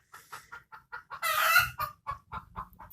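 A broody free-range village hen gives a steady run of short, evenly spaced clucks close by, broken once by a longer, louder squawk, then returns to the same rhythm.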